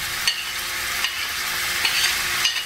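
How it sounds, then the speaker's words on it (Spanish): Green bell pepper, red cachucha pepper and scallion sauté in a hot pan with a steady bright sizzle, broken by a few soft stirring scrapes, close and without voices. "Ahora vamos a sofreír todo esto."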